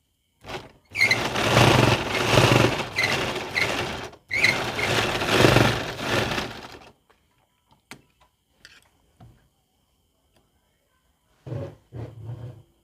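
Domestic sewing machine stitching along the side seam of a garment, running in two loud continuous bursts of about three seconds each, followed by a few faint clicks and a short final run.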